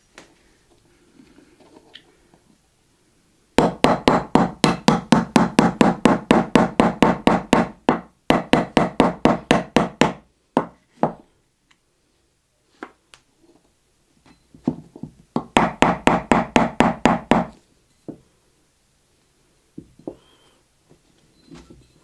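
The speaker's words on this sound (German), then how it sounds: "Um das Visier wieder reinzuschlagen, am besten einen Hammer benutzen mit einem weichen Kopf" A soft-faced hammer taps a pistol's rear sight back into place, striking in rapid, even bursts of many close, sharp knocks. Quiet pauses and a few isolated taps separate the bursts.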